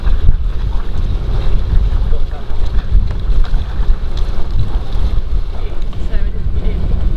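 A boat cruising out of the River Waveney and turning into Oulton Dyke on the Southern Broads, with a continuous engine and water rumble under heavy wind buffeting on the microphone.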